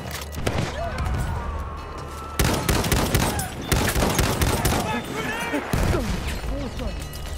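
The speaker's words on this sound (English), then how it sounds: "Machine gun. Over there." Sustained gunfire in a Battlefield 1 World War I battle, with rapid bursts of machine gun fire and scattered shots rattling on close and loud throughout, amid battlefield noise and shouting voices.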